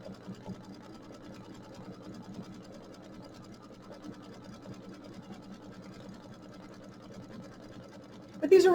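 A sewing machine runs at a steady pace, stitching fabric with a soft, even mechanical whir and needle rhythm. It ends in a sudden louder clatter.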